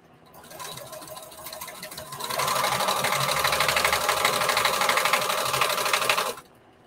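A sewing machine stitches bandana fabric together for a patchwork T-shirt dress, guided along the edge of the presser foot. It starts with a slow, quiet whir, then runs at a fast, loud, steady rattle for about four seconds before stopping abruptly.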